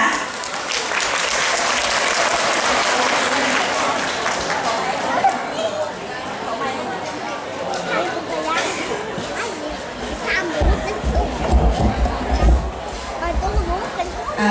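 An audience at a Ranong Hospital gathering in Thailand applauds, a long stretch of clapping mixed with crowd chatter and a low rumble that rises again near the end.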